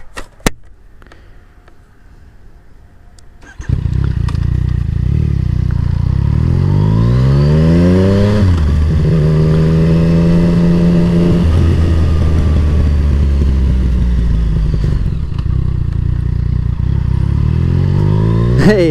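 A Yamaha R6 sport motorcycle engine starts loud and close, then revs and roars with rising and falling pitch sweeps, holding a steady heavy drone for the rest of the ride past.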